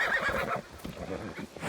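Horse in Assassin's Creed Valhalla gives a loud, close whinny that fades out after about half a second, followed by soft hoof clip-clops and light movement.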